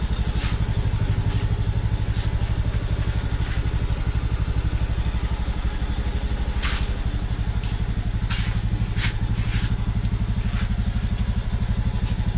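A motorcycle engine idles steadily just after an oil change, a close, even low chugging with occasional sharp clicks and clatters on top.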